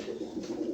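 A red checker male pigeon coos in low, rolling murmurs that pulse steadily through the short stretch, close and fairly loud, with no voices over it.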